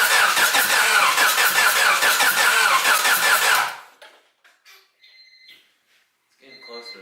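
Wagon's engine cranks and sputters during its first start on a new setup, a loud rough churning for several seconds before cutting out, followed by quiet with faint sounds and brief voices.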